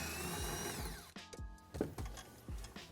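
An 8mm socket on a power driver backs a ground bolt out of a Ford Bronco: a sustained whirring run, then a few short, close bursts of spinning and clicking.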